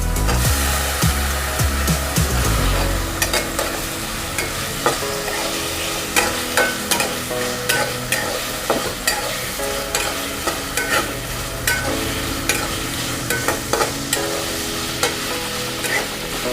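Thin potato slices fry with green chillies in a pan, a loud continuous sizzle with a spatula scraping and tapping against the pan in a steady, repeated rhythm up close.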